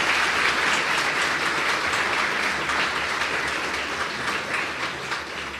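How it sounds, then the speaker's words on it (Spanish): A church congregation claps loudly for the Lord during a Spanish-language evening service, a thick, continuous roar of many hands that holds steady and eases slightly toward the end. "Dale un aplauso grande al Señor."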